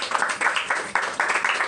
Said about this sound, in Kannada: ಚಪ್ಪಾಳೆ ತಟ್ಟಾರೆ.